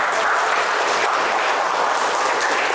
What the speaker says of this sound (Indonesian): Bagus, tepuk tangan dong.